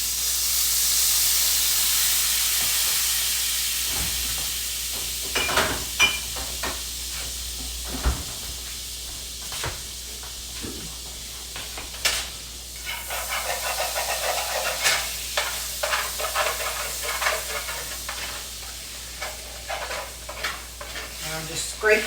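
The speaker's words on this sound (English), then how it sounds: "I'm just scraping up all the bits on the bottom." A pan deglazed with about a tablespoon of Marsala cooking wine, a hissing sizzle up close with repeated scraping strokes of a utensil across the bottom, steam bursts in between and no talk.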